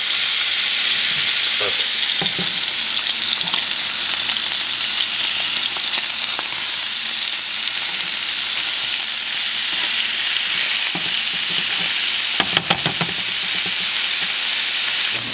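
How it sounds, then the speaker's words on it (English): Food sizzles and fries steadily in a hot pan for the full stretch, a constant bright hiss with a few clatters near the end and a brief word spoken. "I'm gonna go ahead and flip them over right now so you can see what it looks like"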